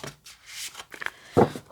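Tarot cards being shuffled, giving a few brief, soft papery riffles and rubs close to the microphone, with no talking.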